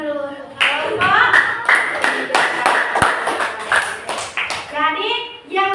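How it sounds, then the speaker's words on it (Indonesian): A class claps for a student group, a burst of quick, irregular handclaps loud and close. Children talk and call out over the applause. "Beri tepuk tangan dulu untuk kelompok."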